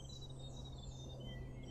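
Faint, high, thin warbling notes from a grey warbler drift through native bushland, a few sustained whistled phrases sliding slightly in pitch, distant and soft above a constant low background hum.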